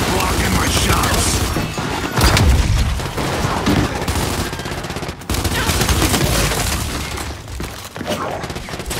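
Dense rapid gunfire from the shooter game Gears 5, bursts of automatic fire and impacts packed close together throughout, loud and continuous with voices mixed in.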